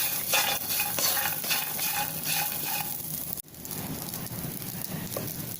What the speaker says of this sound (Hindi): और ये किशमिश है, इसको 1 मिनट हम भूनेंगे।